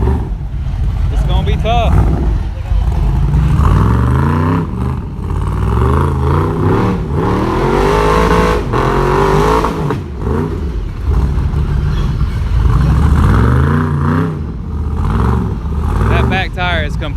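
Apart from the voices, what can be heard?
off-road racing vehicle revving up hill on flat tire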